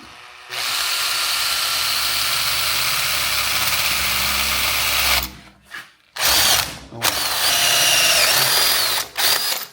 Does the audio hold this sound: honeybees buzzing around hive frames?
no